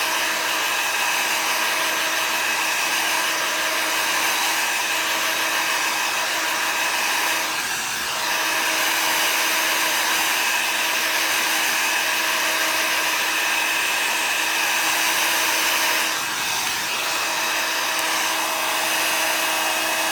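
A hair dryer blows steadily on stamped card ink, a loud, constant whirring roar that holds for the whole stretch, with two brief dips as it is moved, and no one talking.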